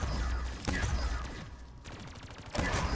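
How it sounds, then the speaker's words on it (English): A ray gun fires in Call of Duty Black Ops 3 Zombies, with several loud bursts of rapid shots broken by brief gaps, close and punchy against a busy game background. "I'm like shooting the ray gun"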